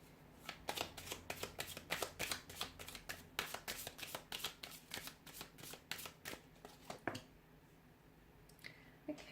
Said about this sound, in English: let's shuffle the cards and see